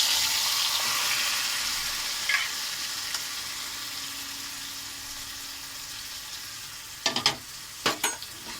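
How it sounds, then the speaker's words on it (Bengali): Tengra fish head pieces fry and get stirred in hot oil with cumin in a pot, giving a steady close sizzle with a few sharp scraping clatters of the spoon near the end. "তেলে আমি মাছগুলো কষাবো, যেমনি মাংস কষায় তেমনি কষাবো।"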